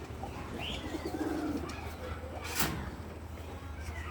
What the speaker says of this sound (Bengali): আর এই যে একটা খাকি কবুতর,